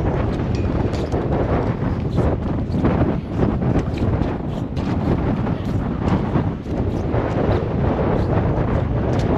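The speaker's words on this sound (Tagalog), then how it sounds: "Matigas dito lakas pa ng hangin." Strong wind buffets the microphone on a sandy Thompson Beach shore, a steady loud roar of broadband rumble and gusts with no pauses.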